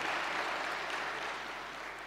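An audience claps together at a live New Year's Eve event, a dense, steady wash of applause sustained throughout and slowly easing in loudness, with no voices.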